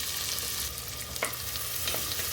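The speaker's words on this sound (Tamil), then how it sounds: "ஒரு பெரிய வெங்காயம் சேர்த்துக்கிறேன்." Onion sautéing in hot oil and ghee with bay leaf, cinnamon, cloves and cumin, a steady close sizzle with a few light stirring clicks and no voices.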